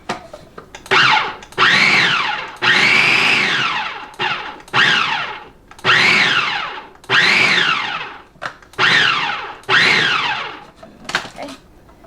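A food processor fitted with a mixing blade pulses powdered sugar for cream cheese mints, giving about eight loud motor bursts of a second or so each, separated by short pauses, with no talk over them.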